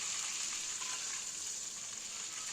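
Chillies sizzling in hot oil in a pan while cooking a Telangana-style rohu fish curry, a steady close crackling hiss throughout with no talk.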